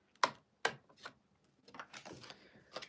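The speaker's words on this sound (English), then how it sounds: "I'm going to put my regular foot on here" A sewing machine presser foot being swapped makes sharp plastic-and-metal clicks and snaps, two crisp ones followed by softer fiddling clatter, close and quiet.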